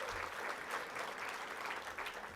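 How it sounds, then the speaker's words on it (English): An audience at a mayors' small business conference gives a round of applause, a steady, even wash of many hands clapping heard faintly and alone for a couple of seconds. "Give them a round of applause as well."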